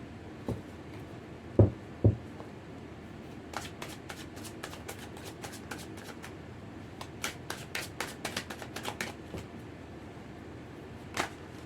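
Tarot cards being shuffled for a reading: a couple of sharp taps early, then clusters of quick riffling clicks and flutters, close and fairly soft, with no voices.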